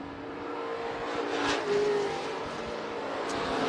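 Dirt-track race cars roar down the front straightaway at Boone Speedway in Boone, Iowa, during a heat race, a steady loud engine drone with a swell as cars pass.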